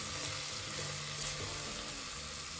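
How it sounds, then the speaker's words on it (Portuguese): Onion and garlic sizzle steadily in a pan while being stirred for a Bahian okra stew, a close, continuous frying hiss with no voices. "Vamos acrescentar também o alho. Misturar bem aqui."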